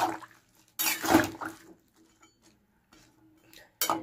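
Cauliflower and potato are stirred in salted water in a pot, giving a few close metallic clinks, scrapes and watery sloshes separated by quiet gaps.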